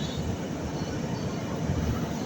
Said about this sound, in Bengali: ওইদিকে একটা লোকাল এইমাত্র ঢুকছে হাওড়া স্টেশন